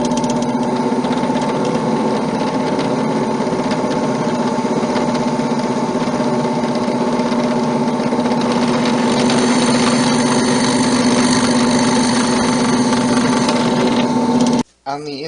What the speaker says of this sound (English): I use a drill press and a 3/16-inch diameter drill bit to drill a hole in the center of the front of the drawer for placing a knob.